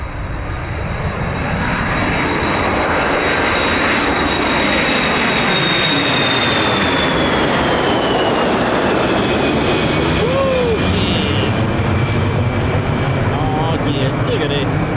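A Boeing KC-135 tanker flying a circuit at RAF Mildenhall gives a loud, continuous jet engine roar that swells as it passes overhead, with a voice talking underneath.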